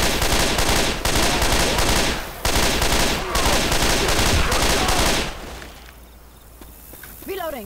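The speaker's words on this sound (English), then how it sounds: "That was a nice shot, War" Dense, rapid automatic gunfire from the zombie shooter game Left 4 Dead, loud and nearly continuous in long bursts with brief breaks, then fading to quieter game sounds, with players talking over it.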